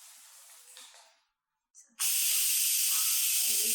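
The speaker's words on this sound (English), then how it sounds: "we're gonna go ahead and release the steam." Pressure cooker with boiled chicken inside venting steam: a soft hiss fades out, there is a brief pause and small puff, then a loud, sustained, broadband jet of steam bursts out and holds steady, close by.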